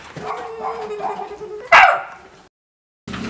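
A dog barks once sharply after a stretch of whining, up close, then the sound cuts to silence before resuming briefly.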